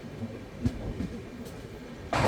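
A Paschim Express train (12925) between Mumbai and Delhi rolling along, heard from inside a first AC coach: a steady low rumble with faint rhythmic knocks and a louder burst of track noise toward the end.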